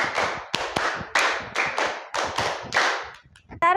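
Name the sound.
rhythmic counted hand clapping ice-breaking game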